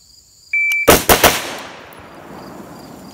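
Rifle fired three times in rapid succession at a 10-yard range, with loud, sharp cracks spaced a fraction of a second apart, each followed by a brief ringing decay. A steady high tone sounds just before the shots.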